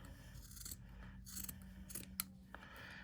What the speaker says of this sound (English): You're just gonna cut your socks, and I like to cut it in half first.